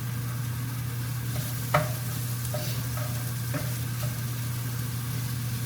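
Carrots sauté in a pan with browned onion and garlic, giving a steady close sizzle broken by several sharp scraping stirs of a utensil against the pan.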